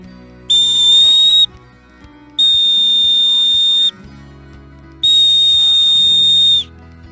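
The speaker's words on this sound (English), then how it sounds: "So a whistle is a mandatory thing that you want to keep in your emergency gear." A small emergency whistle from outdoor survival gear gives three long, loud, shrill blasts of about a second each, separated by short pauses, with no talking.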